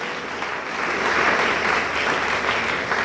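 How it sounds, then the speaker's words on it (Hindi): Audience applause at a Hindi poetry recitation fills the room with a steady, fairly loud wash of clapping that swells slightly and holds without a break. No voices are heard. "तालियां कमजोर है आपकी"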